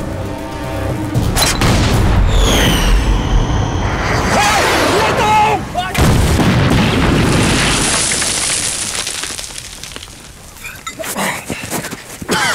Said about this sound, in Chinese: 我开炮行吗？